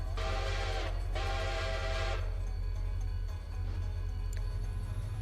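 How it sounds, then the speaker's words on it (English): Reading 6 locomotive steam whistle in the Railroader video game gives two long, bright harmonic blasts close together, followed by a low steady engine hum and faint ticking. "Why'd you change the whistle to a Reading 6?"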